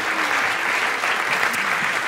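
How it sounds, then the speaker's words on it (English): Audience applauding participants after a classroom demonstration, a brief steady rush of many hands clapping at moderate loudness. "Let's give them a big round of applause for participating"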